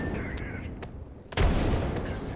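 A grenade goes off in a shooting video game with a sudden heavy boom, followed by rumbling gunfire-like cracks and a sustained roar, loud and close.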